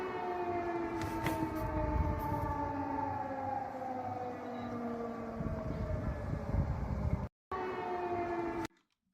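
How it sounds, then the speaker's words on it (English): Air raid sirens in Poland wail in the distance, several overlapping rising and falling tones sounding over a rumbling background before the sound cuts out near the end. "Poland was activating a lot of different sirens in the area"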